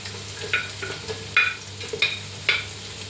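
Chopped garlic and ginger sauteing in a pan, with a soft steady sizzle broken by several sharp stirring scrapes, close and alone with no voices.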